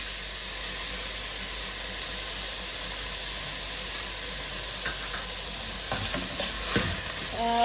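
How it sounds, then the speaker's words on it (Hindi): Chicken mince (keema) frying in a pan for Chinese chicken egg rolls makes a soft, even sizzle, with a few stirring knocks and scrapes toward the end. "इनको मैंने तकरीबन 7 मिनट हो गए मुझे कीमे को भूनते हुए"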